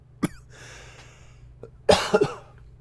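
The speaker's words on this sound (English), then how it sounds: "Sorry, I had a coughing fit." A brief cough, a quiet breathy stretch, then a cluster of two or three forceful coughs up close, no speech.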